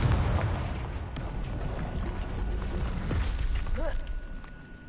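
A Confringo blasting spell going off in the Hogwarts Legacy video game, a rumbling fiery burst with crackling impacts that fills the scene, loud and sustained, with a brief voice in the mix.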